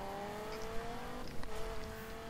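An engine revs and accelerates in the Need for Speed 2016 racing game on PC, a steady moderate drone that rises slightly mid-way, with no speech over it.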